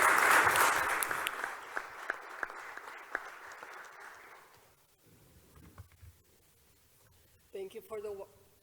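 An audience at an athletes' panel event bursts into loud applause for the panel moderator, which fades out after about four seconds; afterward there is quiet room noise and a brief voice.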